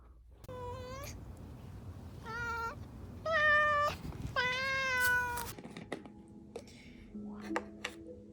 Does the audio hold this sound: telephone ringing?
no